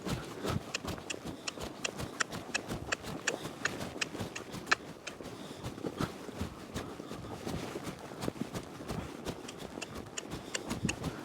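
A tense horse moves at a walk, its hooves clip-clopping in a steady, fairly quiet rhythm with faint scuffing between steps and no one talking.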